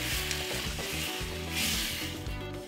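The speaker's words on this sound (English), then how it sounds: "this is 2 cups of a tomato sauce. You can use canned tomatoes or blend some tomatoes. That goes in. Give this a stir." Two cups of tomato sauce sizzling loudly in a hot pan for a curry meatball dish, with a spoon stirring through it in short scraping strokes close by.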